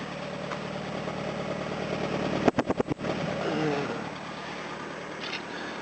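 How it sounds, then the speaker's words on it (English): A steady low engine idle rumbles throughout, briefly interrupted by a short burst of rapid clicks or knocks near the middle. "I think I'll just let it idle for a little so it can get some oil up to those valves"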